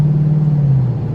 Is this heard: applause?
no